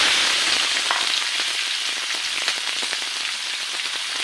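Pork strips frying in a pan for pork teriyaki, producing a loud, continuous crackling sizzle with scattered sharp pops, close up and without voices.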